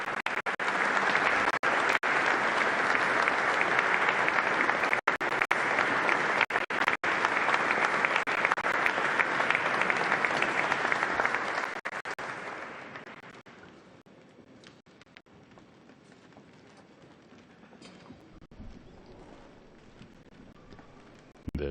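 A standing ovation for the Pope's speech at the Quirinal Palace in Italy, loud sustained clapping from a large audience that fades out after about twelve seconds, leaving quieter room sound.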